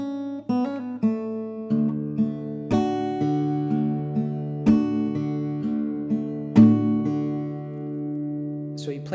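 An acoustic guitar plays the riff from a song slowly, with single plucked notes and strums ringing out one after another, close and clear with no talking.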